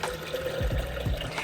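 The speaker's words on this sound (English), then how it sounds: "And I just finish it off with water." Water poured into a glass to top up a lemon-lime drink mix, a brief close splashing and gurgling fill without talk.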